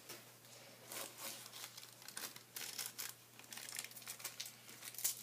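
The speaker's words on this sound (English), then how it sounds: "you're just going to tear this into strips also" Paper or fabric being torn by hand into small strips to make a cast for a doll, a close, dry ripping and crinkling that comes in irregular bursts throughout, with no talk.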